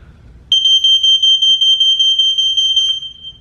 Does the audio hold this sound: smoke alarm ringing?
yes